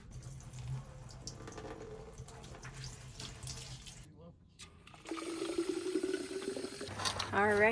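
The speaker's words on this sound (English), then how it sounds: "All right, I washed all of my utensils and my plates." Water runs from a tap at a campsite sink in Big Bend National Park while plates and utensils are rinsed, a soft steady flow with clinks and splashes, rising louder and fuller toward the end.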